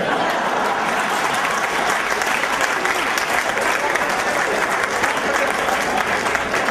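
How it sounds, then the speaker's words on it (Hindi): An audience at a poetry recital applauds, steady dense clapping that fills the room at an even level from start to finish. "आप लोग ताली बजाते हैं साहब"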